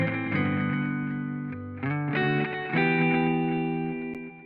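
A sustained, heavily processed tone with a delay plugin effect, repeating echoes smearing the notes together, dry with the built-in reverb off.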